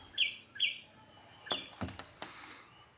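Two quick high bird chirps ring out near a home, followed by a few faint clicks and rustles in otherwise quiet surroundings.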